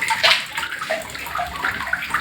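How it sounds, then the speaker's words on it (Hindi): Water at a sacred spring spilling from rocks beside a cave, splashing and gurgling close by in uneven bursts. "जल निकल रहा है। ये झरना, गुफा भी बनी हुई।"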